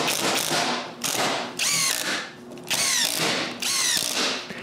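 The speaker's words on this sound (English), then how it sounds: "I place it over the first piece and drill two holes." A power drill bores two holes through a wooden piece for a chest of drawers pull, in close, loud bursts. Each burst is a whining spin-up with a rising pitch, separated by brief pauses.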